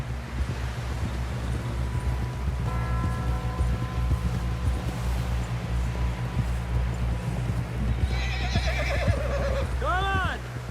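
In the Red Dead Redemption 2 video game, a horse gives a rising, wavering whinny near the end, over a steady bed of hoofbeats and wind that runs throughout.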